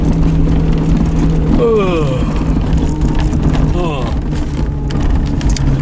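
A farm vehicle crossing a field at around ten miles an hour gives a constant loud engine drone and wind buffeting up close, with voices talking briefly over it.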